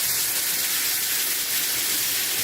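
A glass of milk hits hot roasted flour in a pan for a no-oven lasagna, giving a steady loud steamy hiss and sizzle that lasts the whole time with no talking.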